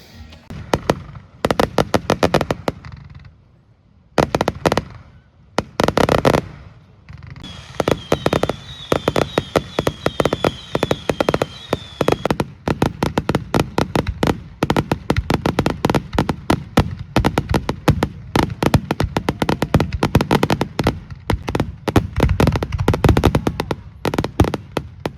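A summer evening fireworks display in the Landes, with dense volleys of loud bangs and crackling bursts, a short lull near the start, then near-continuous rapid popping for the rest of the clip.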